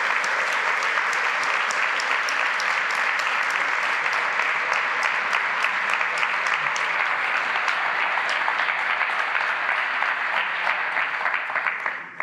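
Sustained applause from a conference audience at the close of a DevOps talk, dense and steady clapping throughout at fairly loud level, tapering at the very end.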